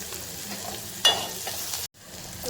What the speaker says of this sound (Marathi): आपण कांदा परतून घेता घेता थोडंसं मीठ टाकून घेणार